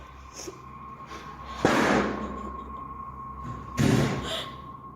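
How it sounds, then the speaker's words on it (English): Door slamming shut in another room, two dull, muffled thuds a couple of seconds apart, moderately loud over a steady low electrical hum and faint background noise. "he turns to find the door from the other room has slammed shut again"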